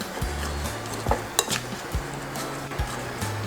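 Dinakdakan being mixed with chopped labuyo chili in a bowl, with a spoon scraping and clinking against the sides in several short knocks over low kitchen hum.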